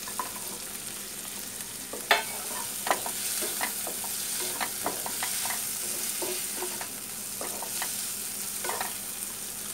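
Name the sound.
carrots and rice frying and stirring in a tawa pan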